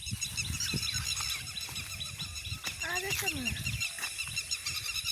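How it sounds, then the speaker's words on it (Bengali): Several migratory birds call and squeal in a dense chorus in a forest near Sreepur, Bangladesh, some sharp repeated notes rising above a busy background, with a person talking faintly underneath. "এত পাখির ডাক কোথাও শোনা যায় না"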